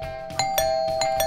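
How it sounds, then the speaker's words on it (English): A doorbell rings in a home setting: several bright, repeated chime tones over a steady sustained tone, close and fairly loud with no talking. "Oh, look, there's a doorbell. Let's try to press it."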